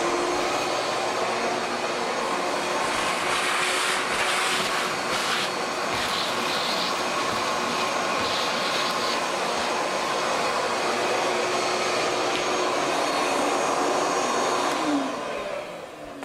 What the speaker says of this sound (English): Vacuum up.